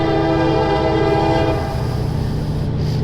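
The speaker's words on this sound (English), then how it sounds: "It's amazing how many Union Pacifics I've seen coming through here lately." A Union Pacific freight train led by five locomotives rolls past at close range, sounding a loud sustained horn chord over the heavy rumble of the engines and rail noise.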